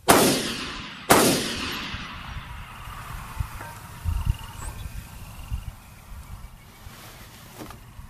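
Two sharp, loud rifle shots from a 6.5 Grendel gas gun about a second apart, each followed by a long echoing decay across an open long-range setting, then quiet outdoor ambience with faint distant thumps.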